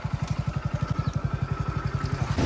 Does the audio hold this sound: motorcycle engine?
yes